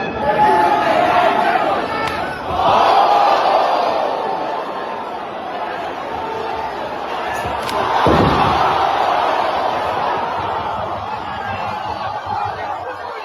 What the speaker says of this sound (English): Huge reaction from the crowd.